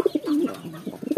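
A Lahore pigeon coos in a farm cage: a short, close, soft throaty coo with a rolling, bubbling rhythm.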